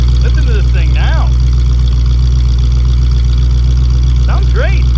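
A 1973 Ford Mustang Fastback revived after 30 years sitting in a yard idles loudly with a deep, steady low rumble, while people talk over it.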